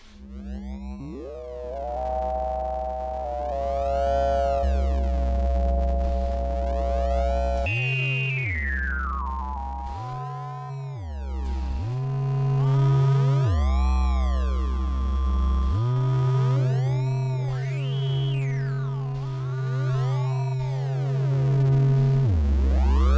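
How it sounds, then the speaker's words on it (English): Stacked ring modulators and key trackers in Renoise produce synthetic sine-like tones that sweep, chirp and warble in pitch, with sustained layered notes changing every few seconds and no talking. "you can keep stacking ring modulators in this way, and key trackers and ring modulators, and build up some more complex types of sounds"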